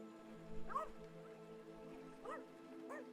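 A dog in the video game Rainswept lets out several short barks and whimpering yips, spaced apart over a faint patter of rain.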